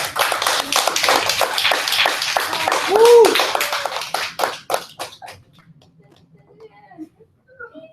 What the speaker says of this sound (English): Let's all clap for them.